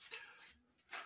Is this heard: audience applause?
no